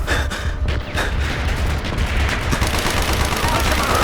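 Dense, continuous gunfire and explosions from the Call of Duty Black Ops video game, loud and sustained throughout with overlapping shots and mortar blasts, game voices shouting in the mix.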